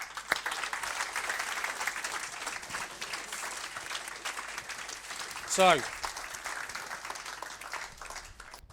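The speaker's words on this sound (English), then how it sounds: "I think that the whole tech team need a round of applause" Applause from an audience at a workplace colleagues' awards evening, honouring the tech team, a steady moderate clatter of clapping that runs throughout with a brief louder swell near the end, a voice speaking over it at points.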